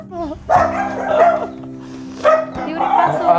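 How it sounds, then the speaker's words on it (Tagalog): A dog barks repeatedly at close range in the morning, loud, sharp yaps coming in two bursts with short gaps between them, while people talk at the same moments. "Aga-aga, nag-iingay yung aso."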